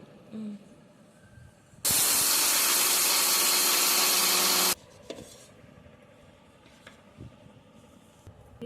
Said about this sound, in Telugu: ఇప్పుడు వీటిని మిక్సీ పట్టుకుందాము